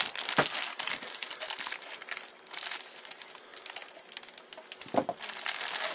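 Small plastic bags wrapped around computer speakers crinkle and rustle as they are handled, close and fairly loud, in irregular bursts with a couple of sharper crackles.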